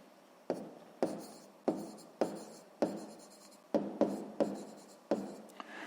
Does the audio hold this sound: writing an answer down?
yes